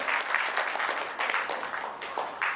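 Audience applause at an open mic night, a steady wash of many hands clapping throughout, fairly loud and sustained with slight swells.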